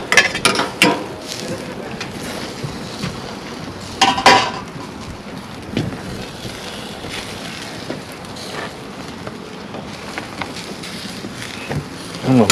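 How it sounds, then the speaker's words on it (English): Cooked macaroni is dumped from a pot into a pot of cheese, giving clattering metal knocks and scraping with a couple of sharper clanks, over outdoor wind and background noise. "So we'll dump our macaroni in."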